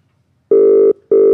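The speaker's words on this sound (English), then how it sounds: "Yes, we've got a ringtone." A loud, steady telephone ring tone sounds while a call connects, one long even tone then a short pause before the next begins, clear and alone.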